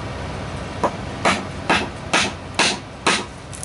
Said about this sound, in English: Putting a pretty good swat on the chisel.